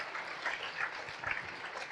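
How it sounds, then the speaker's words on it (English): Steady applause from a seated audience at an aviation awards ceremony, a dense even patter of many hands clapping that carries on without a break. "keep the applause coming loud and clear"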